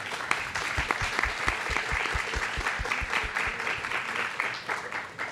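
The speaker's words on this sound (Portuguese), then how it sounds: "Eu peço palmas para o Mário Lúcio." A small audience at a podcast recording applauds the author Mário Lúcio, with distinct, rhythmic close hand claps over a softer spread of clapping that fades out toward the end.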